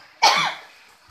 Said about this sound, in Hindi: इसलिए मुझे खांसी भी लग गई है।